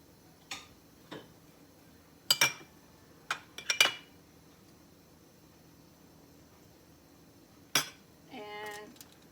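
Utensils clinking while sauce is added to a burger, a handful of sharp, sparse metallic ticks and clinks separated by near-silence.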